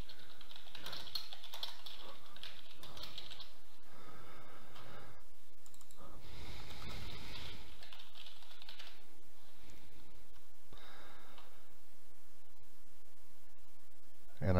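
Computer keyboard typing while changing settings in a Dynamics 365 production instance, heard as irregular quick bursts of close, fairly quiet key clicks separated by short pauses, with no talk.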